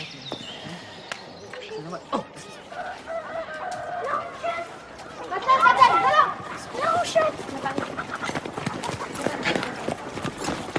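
Horse hooves clip-clop on a farmyard in a period drama set in 1788, mixed with nearby chickens clucking and a rooster, under ongoing talk and a busier stretch of activity midway.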